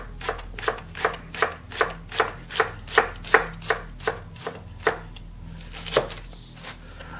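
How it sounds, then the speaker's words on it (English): A large onion being roughly chopped with a knife on a board for kimchi: about eighteen crisp, evenly spaced cuts in a steady rhythm, close and distinct, with no talking. "I'm cutting it up fairly roughly"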